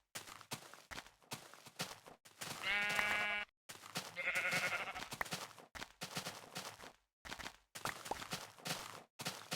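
Sheep bleating in a video game, two drawn-out bleats standing out from a series of short clicking and stepping game sounds, close and moderately loud.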